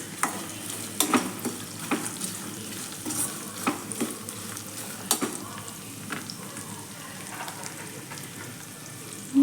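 Vegetables such as brinjal and raw mango sauté in a pan for vatha kuzhambu, a steady soft sizzle with repeated scraping stirs and light taps, close by and fairly quiet throughout.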